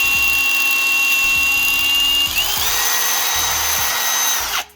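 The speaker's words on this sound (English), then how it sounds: "Zip tying the drill." A power drill zip-tied to run on its own whirs loudly and steadily during work on a KE10 Toyota Corolla, its pitch dropping partway through as the motor loads up, then cuts off abruptly at the end.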